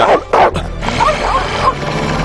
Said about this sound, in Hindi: कुत्ते आपके सामने हैं सर